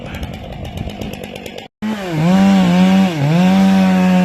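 Chainsaw bucking a large tree trunk, first rough cutting noise through the wood, a brief break, then the engine revving loud and close with wavering pitch as it bites in.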